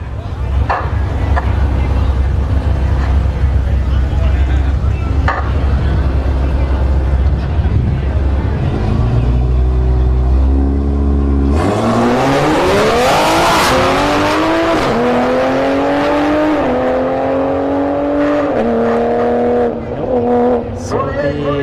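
Two no-prep drag racing cars, a wagon and a Supra, roar at a speedway: a loud, steady engine rumble, then a sudden launch with screaming engines climbing in pitch through gear changes, close and dominant.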